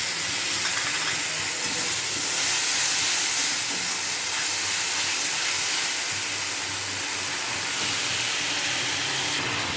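Tomato going into a frying pan of pointed gourd and potato curry, a loud continuous sizzle and hiss of hot oil that swells briefly and then settles, close up with no talk.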